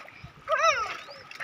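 Children splash in muddy rainy-season water of the Swarn Rekha river while bathing, a short burst of sloshing and splatter rising midway over faint background, with playful high voices mixed in.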